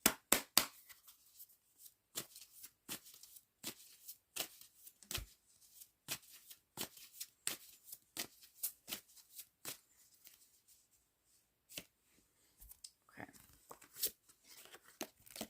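Tarot cards being shuffled by hand, a long run of crisp riffling snaps and soft papery slides in irregular bursts, close and fairly quiet, with brief pauses between handfuls.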